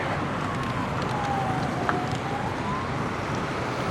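Strong wind roars continuously across the microphone during a storm in Da Nang, Vietnam, with water in the air: a broad rushing noise with a faint tone drifting briefly in the distance.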